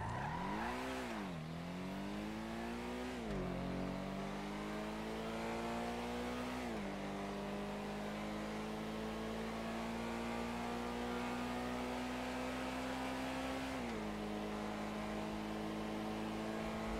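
Car in a GTA V video game accelerating hard from a standing start in a track speed test, its engine revving upward in long climbing pulls with distinct drops at each gear change, loud and continuous, no talking.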